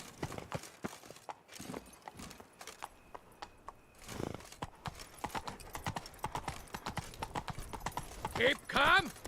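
Roach, a horse in The Witcher 3, clip-clops steadily at close range, its hooves striking in an even rhythm. Near the end it gives a short neigh.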